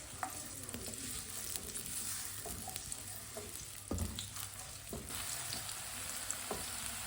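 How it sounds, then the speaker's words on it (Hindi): Chopped onion and garlic fry in oil in a pan, a steady close sizzle and crackle with occasional stirring clatters and scrapes throughout. "लहसुन और प्याज को हल्का सा ब्राउन कर लेंगे।"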